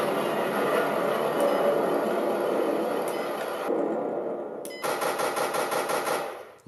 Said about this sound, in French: Donc là, c'est la mitrailleuse.